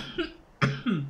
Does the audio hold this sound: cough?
yes